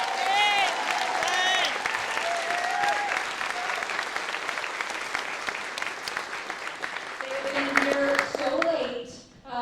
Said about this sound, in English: Can you give them a good round of applause?